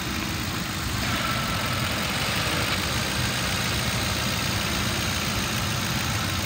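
A 2008 Ford Crown Victoria Police Interceptor engine runs steadily at idle, a continuous low rumble with a constant hum, close by and alone throughout.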